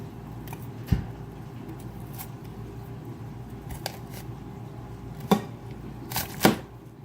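A kitchen knife cuts through cauliflower on a board, with a few sharp, separate chops heard over a steady low background hum.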